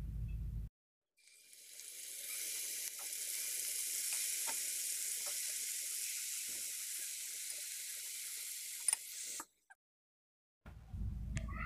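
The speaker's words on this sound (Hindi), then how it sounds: "ऑयल अच्छी तरीके से गर्म करके इसमें आप अपनी सारी चिकन ऐड कर दीजिए।" Marinated chicken pieces dropped into well-heated oil in a pan for chicken tikka, giving a loud, steady sizzle that runs for about eight seconds alone, with brief quiet gaps and low clatter at either end.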